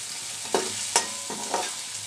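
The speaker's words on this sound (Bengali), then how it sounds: "দিচ্ছি পেঁয়াজ, সবগুলো কিন্তু আমি হালকা ভাজা করে নেব" Onions lightly frying in a pan with a little salt, a gentle steady sizzle punctuated by a few sharp stirring scrapes, close and without speech.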